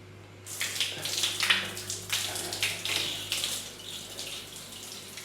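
Handheld two-piece shower spraying in a hotel bathroom, a steady hiss of running water that starts abruptly and continues close by without spattering.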